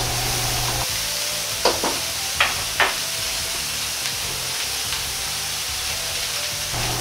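Spicy ground meat and cabbage stir-fried in a pan, a steady sizzling hiss with a few sharp spatula scrapes and clanks, close and fairly loud, no talk.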